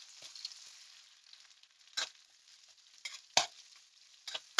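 Onion fries in butter with whole spices, a soft steady sizzle broken by several sharp stirring scrapes against the pan.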